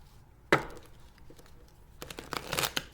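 A sharp riffle of tarot cards near 0.5 seconds, then a longer burst of papery shuffling and flicking toward the end, close and fairly quiet.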